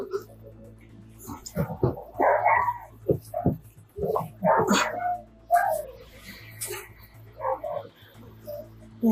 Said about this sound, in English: we have our dog back here